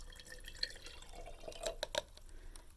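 Half a cup of water pours and drips into a jar during a kids' STEAM activity, soft trickling with a few small splashy clinks, faint and close, no talking.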